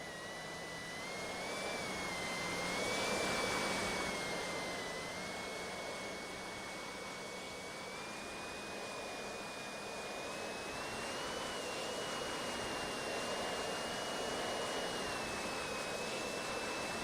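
A turbine-powered RC plane in the RealFlight Evolution simulator gives off a steady, high jet whine that swells gently and holds over a constant rushing roar, alone without talk.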